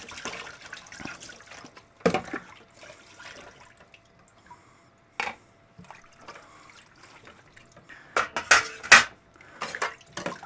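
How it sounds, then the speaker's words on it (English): Dishes being washed at a kitchen sink during a home all-grain beer brewing session: irregular clinks and clatters of pots and cutlery, with sharp bursts of splashing and running water near the end, close by and alone. "I am just washing dishes."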